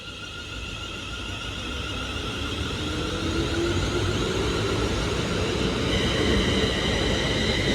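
Avanti West Coast electric train, unit 35111, departs Stoke-on-Trent station toward Stafford. Its rising electric whine sits over a steady rolling rumble that grows gradually louder, with no voices.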